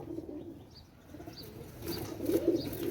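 Pakistani flying pigeons coo softly close by, their low, breathy calls rising and falling over faint background noise.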